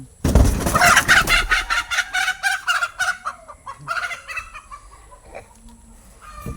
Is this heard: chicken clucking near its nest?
yes